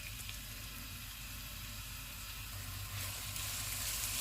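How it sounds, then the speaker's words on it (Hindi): Chopped onions sizzling in hot oil in a pan for aloo bharta, a steady soft frying hiss heard close and fairly quiet, growing slightly louder toward the end, with no talking. "ऑयल गर्म हो गया, इसमें हम प्याज डाल देंगे।"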